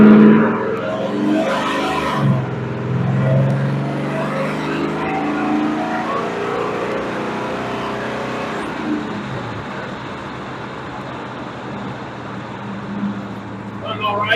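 A car engine with a 700R4 automatic transmission idles and runs steadily, a low rumbling drone with a slight rise in revs early on, while people talk over it.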